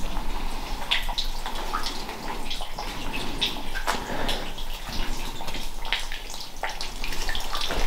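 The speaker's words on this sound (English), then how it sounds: "It's mad that there's still like running water here." Water keeps running and dripping in a tiled room of an abandoned school building, a continuous near splashing trickle with scattered sharper drips and no voices.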